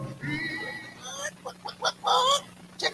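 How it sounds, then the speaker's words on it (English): Chicken clucking, a short series of close, uneven clucks and calls with quiet pauses between them, heard alone with no talking over it. "Chicken, chicken, chicken."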